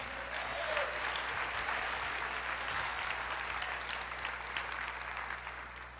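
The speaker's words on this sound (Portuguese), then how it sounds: "Aplauda Ele" A church congregation applauds during a sermon, a continuous even roar of many hands heard from some distance in a large room, moderately soft and unbroken.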